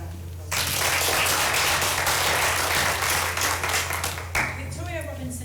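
Audience applause at a school prize giving ceremony, a sustained wash of many hands clapping at steady volume for several seconds, with a low hum underneath and a voice coming in near the end.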